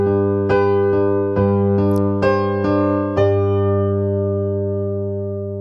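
Piano accompaniment to a song played with both hands, sustained low chords struck in a steady pulse of about eight strokes that ring on and fade, clear and close with no voice.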